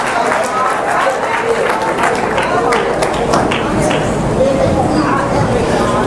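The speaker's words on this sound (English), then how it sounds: "give the Lord a hand clap" A church congregation claps for the Lord in a dense, steady burst of hand clapping that fills the room, with voices mixed in.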